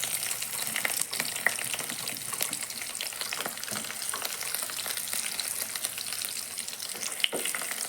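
Onion frying in oil with garlic and curry leaves, a steady close crackling sizzle without talk.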